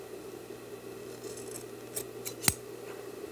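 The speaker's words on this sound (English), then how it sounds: "Go ahead and cut the fabric" Scissors cutting upholstery fabric for a throw pillow during sofa reupholstering, a few soft rasping snips building to one sharp close cut, heard near and alone over a faint steady hum.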